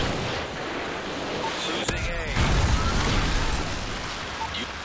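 A Predator missile strike in a military video game: a heavy booming explosion lands partway through over ongoing battlefield noise and rumble, with a short high whistle just before the blast.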